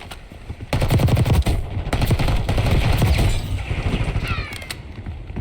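Automatic gunfire in a Call of Duty gunfight rattles in loud, rapid bursts, with overlapping shots, short pauses and mechanical clatter, dense and close with no talking.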